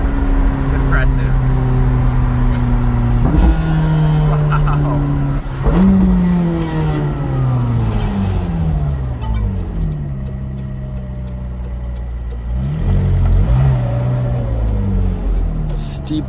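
A McLaren 620R running on E85 revs hard and close, its engine note climbing and dropping through repeated gear changes while a person talks over it.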